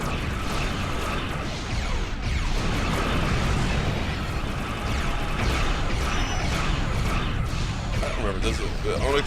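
Space-combat explosions in Star Trek Online pile up into a dense, continuous roar of blasts and crashes that stays loud throughout, with voices faintly mixed underneath.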